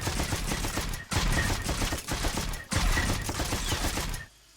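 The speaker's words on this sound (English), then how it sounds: "your blaster fire does change color" Blaster fire from an FC39 weapon in Star Wars: The Old Republic, loud rapid bursts of shots in three dense volleys separated by brief gaps, ending abruptly.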